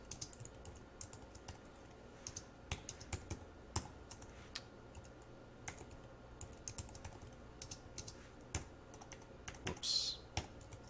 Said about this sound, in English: Let me type that out.